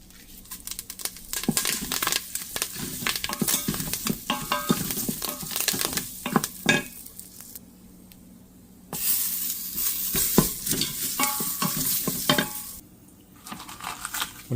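Spices, oil, stone flower and fresh curry leaves for a spicy mutton curry are stirred and mixed in a hot pan, producing bursts of sizzling and scraping that break off briefly twice before resuming.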